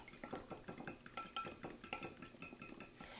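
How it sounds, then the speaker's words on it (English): Eggs being beaten in a bowl with a fork for fried zucchini batter, a quick regular run of light clinks and taps, close and fairly quiet. "Then I'm going to beat my eggs."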